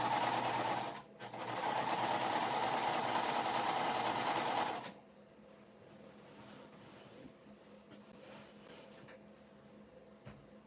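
A sewing machine set into a sewing table runs in a loud steady burst with a short pause, then stops, leaving quieter room sounds and faint handling of fabric.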